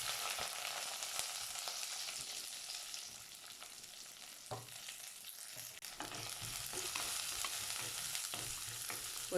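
Onions dropped into hot oil with popped mustard seeds fry steadily in a pan for a South Indian beans poriyal, a continuous close sizzle with a louder burst of crackling midway and stirring scrapes, no voices.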